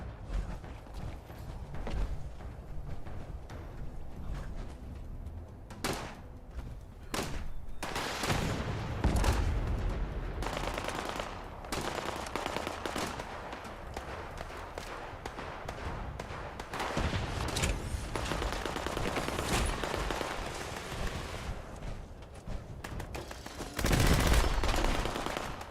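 Gunfire in the video game Fallout 76, with bursts of rapid automatic shots and single loud cracks scattered across the stretch, mixed with mechanical clicks and creaks, no voices.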